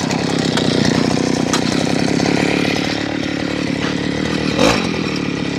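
A bicycle fitted with a small soil-auger engine runs hard in a loud, steady, buzzing drone, revving along a straight stretch with a brief surge near the end. No talking is heard.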